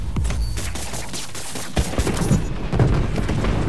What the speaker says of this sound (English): The fireworks! Lit!